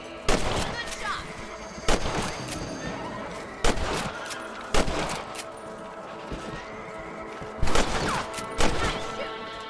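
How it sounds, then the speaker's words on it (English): Gunshots in the video game Red Dead Redemption, several sharp loud cracks spread across the stretch, with horse whinnies and hoof clip-clops between them. "Nice shooting."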